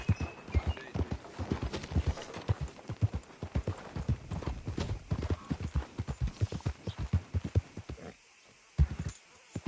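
In the video game Red Dead Redemption 2, rapid clip-clopping horse hooves on a hard surface in the town of Rhodes, loud and close, with a brief whinny and scattered voices in the background.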